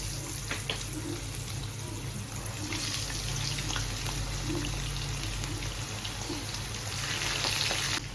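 Chicken sizzling steadily in a pan, a loud, continuous hiss and crackle of hot oil with small pops throughout and no voices.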